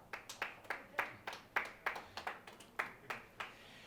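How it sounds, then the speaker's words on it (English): A small crowd at a ten-pin bowling Weber Cup event gives a thin, sparse ripple of applause, just a handful of distinct claps, faint and quite distant. "Ripplings of applause"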